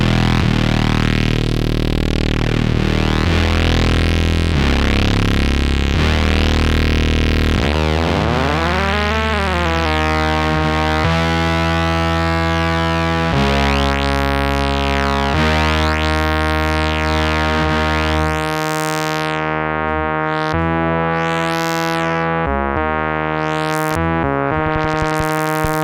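A Nektar Bolt synthesizer holds a sustained, buzzing tone as its two oscillators cross-modulate each other, producing a dense, distorted sound with swooping, shifting overtones that changes character in distinct steps, loud and alone without talk.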